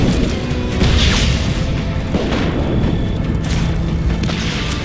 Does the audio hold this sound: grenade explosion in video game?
yes